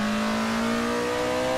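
A rear-mounted car engine in the video game Assetto Corsa revs steadily at high pitch, a strong droning tone that climbs slightly, loud and continuous with no pauses.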